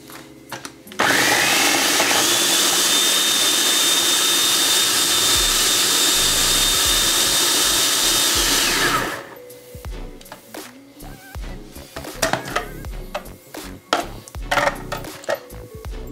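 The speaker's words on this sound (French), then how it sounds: "OK, Kounia, nous allons mixer ananas avec melon." A food processor blends pineapple and melon, its loud, steady motor whir running for about eight seconds before cutting off, followed by clatter and handling noises.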